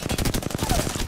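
Rapid automatic gunfire in a video game shootout, a fast rhythmic burst of close, loud shots in quick succession across about a second.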